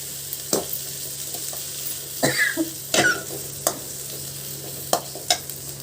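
Tomatoes and tamarind fry in a pan for a peanut chutney, a low steady sizzle broken by spoon scrapes and clinks against the pan, plus a short cough, close and fairly loud without speech.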